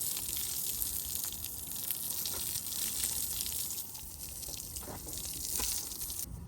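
Water from a shower hose splashes steadily over a horse named Vava, a broad continuous hiss and patter with a few brief drips and gushes, fairly close and moderately loud, no speech.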